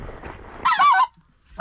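A single snow goose gives a loud, nasal honk, close by over a soft low murmur, with a short second call starting at the end, heard from a rainy Louisiana dry rice field.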